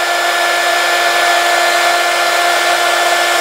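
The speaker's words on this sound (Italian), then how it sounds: "andiamo a riscaldare con il phon" A hair dryer blows loudly and steadily up close, a constant whooshing hum with a faint tonal whine and no breaks or speech.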